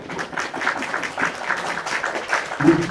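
Conference audience in Poznań, Poland applauds a vice rector, a dense, steady wash of clapping across a hall that lasts the whole stretch, with a faint voice near the end.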